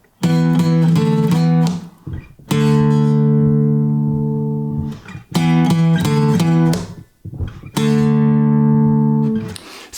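Bold two-note acoustic guitar power chords ring out in short strummed bursts, each left to sustain before the next, played alone and up close.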